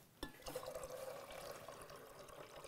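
Hot water pours steadily into a glass beaker during a home chemistry experiment, a continuous close liquid rush and trickle after a brief knock at the start, with no talking.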